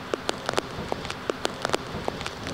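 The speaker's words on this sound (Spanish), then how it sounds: "Durante las 12 primeras horas de lluvia, la cantidad de agua acumulada ha superado los 100 litros por metro cuadrado" Heavy rain pours onto a street during a flooding downpour, making a dense, steady wash of noise broken by sharp, scattered impacts of individual drops.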